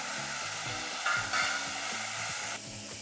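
Electric mixer grinder whirring steadily as it grinds chunks of onion with ginger and green chili in its jar, a loud continuous motor drone with a slight shift in pitch near the end.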